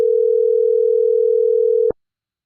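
A single long, steady telephone ringing tone sounds loudly for an unanswered call, then cuts off abruptly, leaving silence.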